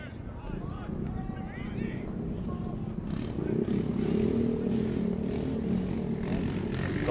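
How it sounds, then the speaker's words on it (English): A local motorbike gang riding past behind the sideline of a park football game, engines rising to a steady rumbling drone in the second half under wind noise and a voice talking. "Got a local motorbike gang going in behind us."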